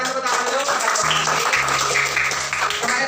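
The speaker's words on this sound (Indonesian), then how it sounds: "Tekan tepuk tangan dulu" A classroom of students claps together in steady, dense applause that fills the room and continues throughout, with a voice briefly audible beneath it.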